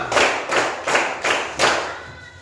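Schoolchildren clapping together in a classroom counting game, five crisp unison claps in a steady rhythm, close and loud, with no talk.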